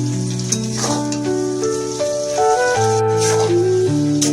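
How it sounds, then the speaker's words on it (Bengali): Onions fry in hot oil for a mutton curry, a close, steady sizzle and crackle with occasional stirring scrapes, carrying on unbroken with no speech. "তো পেঁয়াজটাকে একটু ভাজা করে নিচ্ছি"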